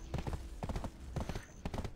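Horse hooves clip-clopping in Black Desert Online, four quick clusters of close, hollow hoofbeats in a steady walking rhythm, fairly quiet.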